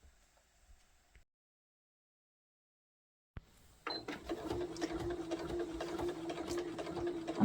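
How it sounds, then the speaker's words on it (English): A sewing machine stitches close to the edge of skirt fabric, starting after a few seconds of near silence with a click, then running in a steady, rapid mechanical chatter that stays close and moderately loud to the end. "I'm now going to take it on my sewing machine and sew fairly close to the edge"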